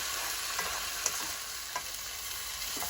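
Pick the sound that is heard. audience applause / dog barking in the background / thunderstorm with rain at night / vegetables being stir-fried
vegetables being stir-fried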